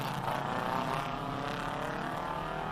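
A powerful classic race car engine roars steadily uphill at a hillclimb with a deep, rumbling drone, sounding fairly distant and sustained throughout without any talking.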